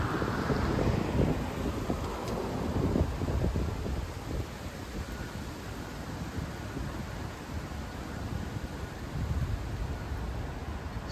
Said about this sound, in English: I'll show you the sound of the wind again